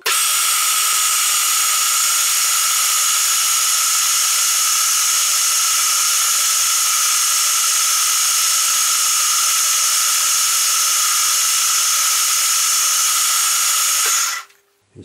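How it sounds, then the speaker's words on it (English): A high, steady whine of a small end mill drilling 4mm deep runs continuously for about fourteen seconds, then cuts off abruptly. "Let's start by drilling 4mm deep."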